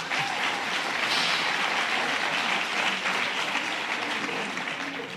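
Crowd applause for special guests at an outdoor health care rally with the New York City mayor, a broad continuous wash of many hands clapping at moderate distance, steady throughout without speech on top.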